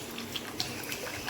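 A little water is poured into a cooking pot, a short soft trickle and splash heard close up.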